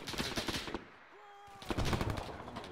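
Rapid bursts of automatic gunfire from an Arma 3 infantry battle in Berlin crackle loudly, pause briefly while a tone sweeps in the quiet gap, then resume in dense volleys.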